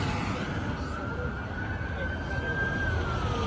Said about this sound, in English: we can hear the sirens and everything like that